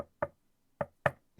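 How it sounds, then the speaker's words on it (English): Knocks on a desk, four sharp, close raps in an uneven pattern: one, a pause, then two close together, and a softer last tap, with quiet gaps between. "Well, let me knock on my desk here."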